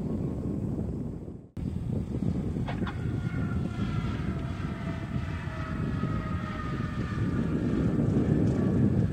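An airplane lands on runway 34 at Beverly Airport: a steady, loud engine roar mixed with heavy wind buffeting, broken by one brief dropout near the start and then holding strong to the end, with no talking.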